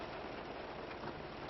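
Steady rain falls outdoors around a hot dog grill, a continuous soft hiss at moderate distance with no voices.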